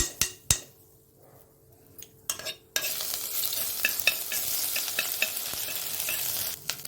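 Ginger garlic paste fries in oil with mustard seeds and cumin for an ivy gourd masala curry: a few sharp utensil knocks over quiet hiss, then a sudden loud, steady sizzle with crackles and stirring.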